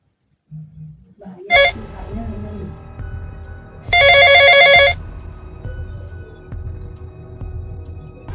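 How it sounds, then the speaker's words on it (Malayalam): A phone rings with an incoming call: a short electronic ring, then a longer, louder warbling burst about two seconds later, heard close over a quiet indoor background with faint voices. "ഇങ്ങോട്ട് വിളിക്കുന്നു, ഇപ്പൊ വിളിക്കണ്ടേ."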